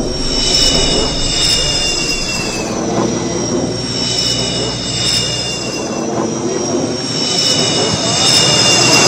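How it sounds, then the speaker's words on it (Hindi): Sukhoi and Jaguar fighter jets landing on an emergency airstrip built on a national highway, a loud, close, continuous engine roar that swells and eases, with a voice partly audible underneath. "हाईवे पर बनी इमरजेंसी एयर स्ट्रिप पर सुखोई और जैगवार जैसे फाइटर जेट्स ने टचडाउन और"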